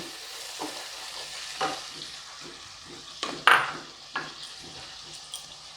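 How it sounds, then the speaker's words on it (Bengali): A spoon scrapes and stirs ground chili paste and spices into melted butter in a pan for paneer butter masala, with quiet, irregular scraping strokes over a soft sizzle and one clear metallic clink midway. "এবার খুব ভালো করে মাখনের সঙ্গে মশলাগুলোকে মেশাচ্ছি।"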